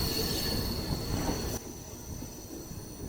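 The Rupsa to Baripada regular passenger train rolls along its rails, a steady, loud rumble with high wheel squeal that drops to a quieter hum midway, with no voices.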